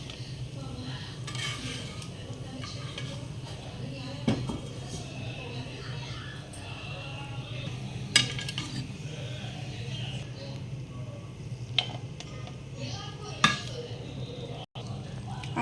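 Ghee-fried raisins for brown sugar rava laddu tipped from a pan into a basin, with light metal utensil clinks and scrapes over a steady low kitchen hum, a few sharper taps standing out.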